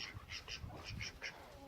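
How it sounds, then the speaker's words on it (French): Geese on a French poultry breeding farm, let out of their pen, honking in a quick series of nasal calls, moderately close but fairly quiet against a light outdoor background. "Je vais laisser sortir les oies."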